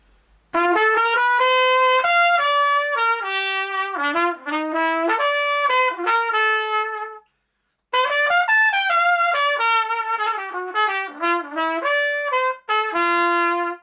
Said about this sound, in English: What I've got on the trumpet right now is a 7C mouthpiece.